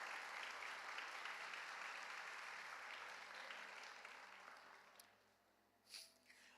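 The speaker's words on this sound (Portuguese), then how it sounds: "Aplauda ao Senhor, porque Ele é bom demais." A church congregation applauds in a broad, sustained wash of clapping that fades out toward the end. A brief sniff or snort follows after it dies down.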